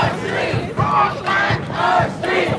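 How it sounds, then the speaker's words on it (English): Shouting protesters at an ICE raid in downtown Los Angeles roar in repeated pulses close behind, a dense, continuous crowd chant swelling and dipping every half second or so. "This is the crowd all behind us."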